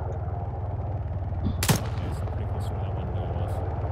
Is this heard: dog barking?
no